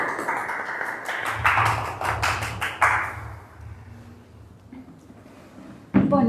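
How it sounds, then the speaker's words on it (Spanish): A small group at a debate gives a brief round of hand clapping, a few seconds of close, uneven claps that fade into quiet room noise before a sharp thump at the end. "Un aplauso a nuestro Señor Jesucristo."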